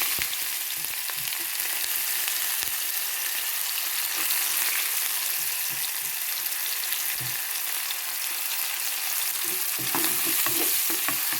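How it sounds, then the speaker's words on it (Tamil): Onions and fenugreek seeds sautéing in hot oil, a continuous close sizzle with intermittent scraping and stirring strokes throughout, no voices. "வதங்கி வரட்டும் வெங்காயம் பொன்னிறமாக வதங்கி வருது"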